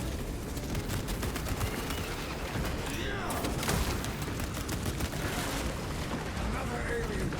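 Heavy bolter fire rattles on in a Warhammer 40,000 shooter as a player cuts through a Majoris swarm, dense rapid gunfire under booming explosions and a constant battle roar, with voices talking over the din.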